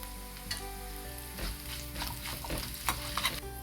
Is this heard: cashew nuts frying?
yes